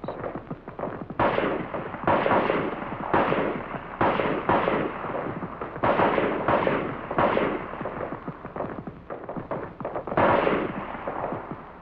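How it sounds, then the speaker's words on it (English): M14 rifles fire on a military range, a dense stream of sharp cracking shots from several shooters, mostly close and loud, with some overlapping and echoing. "you fire 3 groups of 3 rounds each. Followed by a string of 10 rounds."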